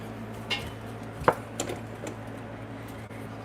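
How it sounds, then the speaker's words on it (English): A few light clinks and scrapes of a utensil stirring garlic powder into a pot for red beans and rice, spaced out and soft, in a quiet room. "I'm going to stir it around"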